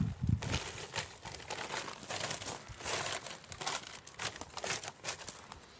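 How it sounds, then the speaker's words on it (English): A plastic bag crinkles and rustles continuously as it is pushed down into a post hole dug in wet clay, a busy, crackling sound close by with no voices. "what we do is put the plastic bag down"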